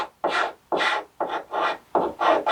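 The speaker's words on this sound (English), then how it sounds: "taking the scraper here and getting in and just doing some" Six rhythmic scraping strokes of a hand scraper doing light scraping on a boat surface, each a short, close, breathy scrape separated by brief pauses.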